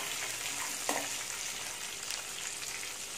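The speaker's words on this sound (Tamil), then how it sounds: "பொட்டுக்கடலை, முந்திரி பருப்பு, தேங்காய் எல்லாத்தையுமே ஒன்றாவே போட்டுட்டு லேசாக வதக்குனா போதும்" Roasted gram, cashews and grated coconut fry together in a pan for a raw jackfruit kurma, giving a steady close sizzle with an occasional stir and no talking.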